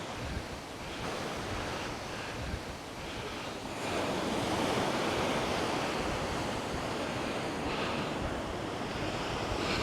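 Sea waves wash steadily below the Teignmouth railway walk, a loud, continuous roar with wind buffeting the microphone and no talking.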